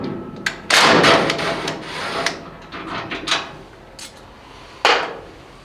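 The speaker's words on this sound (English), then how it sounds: "So let's pull this first screw out, just kind of pull it out and see where we're at." On a 1950 GMC, a door hinge screw is worked loose and pulled out, giving several sharp metallic scrapes and knocks at irregular intervals. Quieter rubbing and clicking fill the gaps between them, all close up with no talking.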